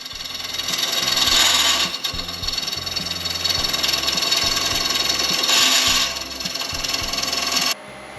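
A sharp tool on a wood lathe takes a light pass across a turned box blank, giving a steady, close, high scraping hiss over the lathe's low hum. The cutting swells twice and stops abruptly near the end.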